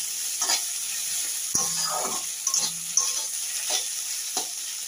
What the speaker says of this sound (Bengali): আর একটু ভালো করে নাড়িয়ে দেবো।